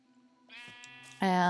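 A sheep in the video game Minecraft gives a short bleat, then a louder, fuller bleat, both close and clear, with no talking over them.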